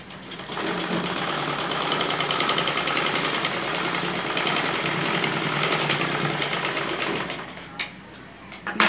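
A sewing machine runs continuously while stitching pant seams, giving a fast, even mechanical whir that lasts about eight seconds before slowing to a stop.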